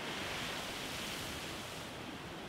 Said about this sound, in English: This has been my favorite beach because since the waves are so big